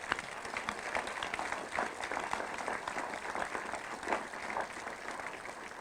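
People at a municipal council installation session in Dieppe applaud, a moderately distant, sustained round of clapping from many hands that holds steady for nearly six seconds.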